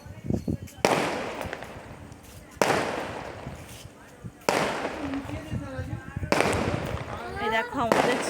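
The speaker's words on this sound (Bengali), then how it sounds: "এই দেখো আমাদের এখানে বাজি ফাটানো হয় দোলের সময় রাত্রিবেলা 12টা থেকে।" Firecrackers going off at night during the Dol festival, several loud separate bursts each trailing into crackle and fizz, with people talking and calling out between the blasts.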